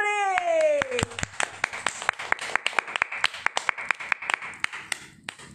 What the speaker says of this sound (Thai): ขอเสียงปรบมือดังๆต้อน